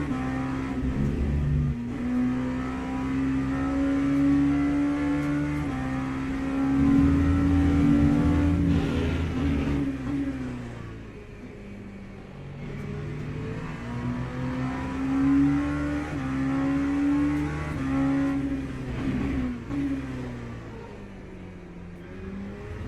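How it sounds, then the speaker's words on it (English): Race car engine in the Le Mans Ultimate racing game, droning steadily with rising and falling revs and quick throttle blips on downshifts, some small and some bigger, loud and continuous throughout. "you see the auto blip as well on the downshifts. Sometimes just small spike,"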